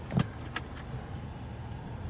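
A 2020 Chevrolet Traverse Premier SUV on the move, heard as a faint, steady low rumble inside the cabin with a couple of brief clicks near the start.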